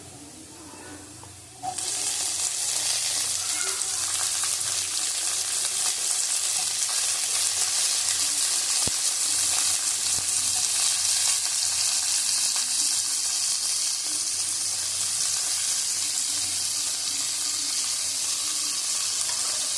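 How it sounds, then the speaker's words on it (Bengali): Long beans hit a hot pan for egg chow mein and burst into a loud, steady sizzle that continues without pause after a brief quieter start, with faint stirring underneath. "বরবটি দিয়ে আমি একটু ঘুম দিয়ে দেবো এক চামচের মতো ভালো করে ভেজে নেব"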